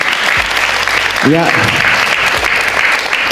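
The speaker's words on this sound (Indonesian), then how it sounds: "Boleh tepuk tangan untuk Ahilman." Audience applause at an Indonesian religious talk, a steady wash of clapping filling the clip, with a brief spoken word and a short voiced sound partway through.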